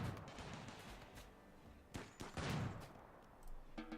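Turrets fire in a RimWorld game, heard as sharp popping gunshots scattered through the clip, with a few louder clustered bursts. They sit over a low background of game noise.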